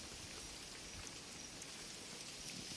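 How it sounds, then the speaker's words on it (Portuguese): A summer storm drops rain onto river water, making a steady, dense hiss of falling drops that stays even and fairly quiet throughout. "Ó os pingos de chuva passando aí."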